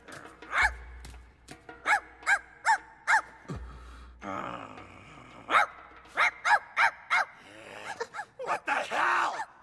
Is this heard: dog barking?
yes